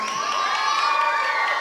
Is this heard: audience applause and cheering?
yes